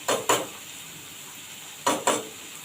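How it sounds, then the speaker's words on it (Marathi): Onion and tomato sautéing with ginger-garlic paste for paneer bhurji, with two pairs of quick spatula scrapes against the pan over a soft, constant frying sizzle. "याच्यातच मी थोडीशी आलं लसूणची पेस्ट घालत आहे"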